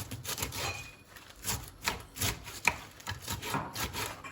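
Knife chopping through cabbage on a board, a steady run of crisp rhythmic cuts with soft rasping between strokes, close up with no talking.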